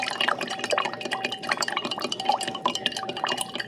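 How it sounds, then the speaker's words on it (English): A wooden stirrer churns oil and water vigorously in a container, giving a continuous, close and fairly loud sloshing and splashing with rapid rhythmic swirls throughout. "I'm going to stir this very, very vigorously"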